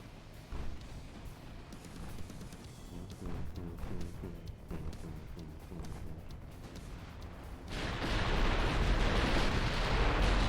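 Heavy booming naval gunfire from warships in a naval strategy game, a run of repeated blasts building into a loud, sustained roar of explosions near the end.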